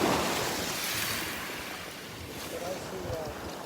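Waves wash and hiss along a Gulf beach shoreline at Delnor-Wiggins, a broad steady surge that swells and slowly fades, nearby.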